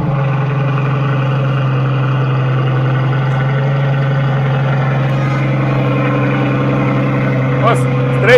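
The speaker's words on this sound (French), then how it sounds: "Et écoutez le somptueux bruit de ce putain de Cullinan Mansouri." A Rolls-Royce Cullinan's engine runs at a steady idle, close and loud, with a deep constant hum and a brief sharper noise near the end.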